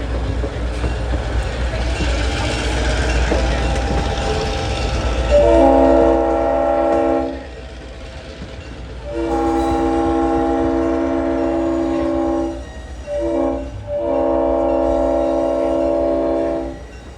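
A train rumbles steadily while its horn sounds in several long blasts, with a short break between them, loud and fairly near.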